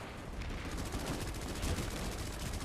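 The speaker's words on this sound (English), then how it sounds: "Trying to kill me with a shotgun, dude." Gunfire in the video game Planetside 2, a dense continuous barrage of rapid shots from a busy firefight, loud and unbroken across the whole moment.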